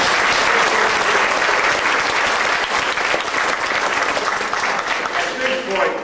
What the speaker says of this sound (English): the cast and crew deserve a big round of your applause